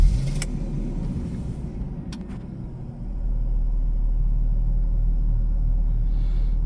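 A car engine with its check engine light on after overheating rumbles low at first, then settles into a louder, steady idle drone about halfway through, with a few faint clicks early on.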